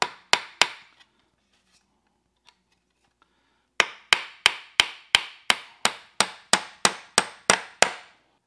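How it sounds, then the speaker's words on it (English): Hammer blows drive nails into the slats of a wooden crate: two sharp strikes, a quiet pause, then a steady run of about fifteen evenly spaced, loud, close knocks. "we'll get the other corner of that slat kind of tacked in place"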